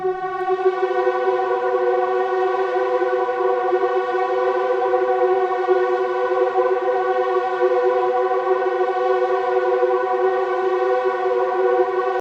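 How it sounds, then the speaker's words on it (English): Steady sustained synth pad with a stacked harmonic tone, ambient and drone-like, playing alone at even loudness as a lead pattern for a beat, with no talking. "I did this later in the beat, but it's a synth lead pattern."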